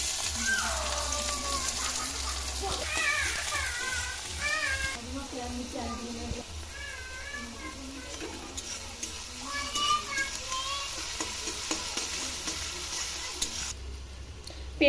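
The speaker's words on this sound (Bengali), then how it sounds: "পেঁয়াজটা আমার লাল লাল করে ভাজা হয়ে গেছে" Chopped onions fry in hot oil with cumin seeds and a little sugar, a steady sizzle and stirring beneath a voice and repeated cat meows close by.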